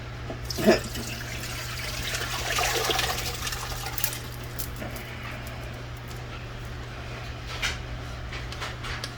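Tuscan soup is transferred from a pan into a big pot with a wet, sloshing pour that swells in the middle, over a steady low hum.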